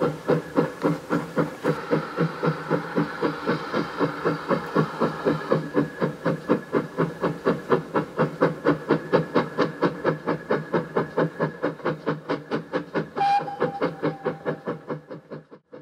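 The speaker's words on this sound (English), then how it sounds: "the engine and guards van make a prompt departure for the junction at Uffington" Branch line steam engine with a guards van pulling away from Faringdon toward the junction at Uffington: rhythmic chuffing exhaust beats, steady and close, with hissing steam and a brief whistle-like tone near the end.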